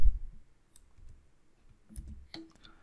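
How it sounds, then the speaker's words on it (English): Computer mouse clicked a few times, soft and close, with faint quiet gaps between the sharp clicks. "Click here to go to the"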